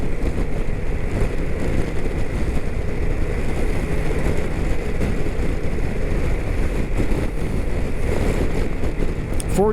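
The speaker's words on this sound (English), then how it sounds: "as soon as you cross into Wyoming, the wind picks up substantially." Strong Wyoming wind, gusting past 30 mph, roars steadily across the microphone on a moving 2023 BMW K1600GTL touring motorcycle, a loud continuous rush that buries the engine and fills the whole stretch.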